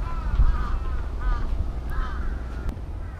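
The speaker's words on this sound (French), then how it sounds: "là on est à l'espace des corbeaux" Crows cawing in the trees of Hamarikyu park in Tokyo, Japan, with about three harsh, moderately distant calls over a low outdoor background hum.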